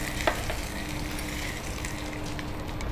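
Dried red chillies and curry leaves sizzle in hot oil as a tempering, giving a steady close crackle with soft stirring and no talk.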